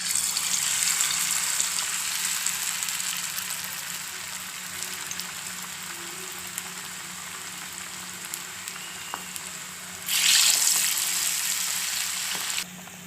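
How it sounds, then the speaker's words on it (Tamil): Stuffed mirchi bajji deep-fry in hot oil on a low flame, giving a continuous close crackling sizzle that swells into a brighter, louder burst near the end. "பஜ்ஜி போட்டு எடுத்துக்கலாம்."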